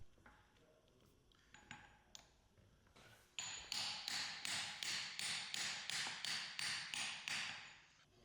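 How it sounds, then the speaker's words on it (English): Metallic hammer taps on a large socket seat a new bearing onto a 2024+ Ford Ranger driveshaft, a few scattered strikes first, then a steady run of about a dozen evenly spaced, bright pinging blows, close and loud. "seat it with a large socket and hammer"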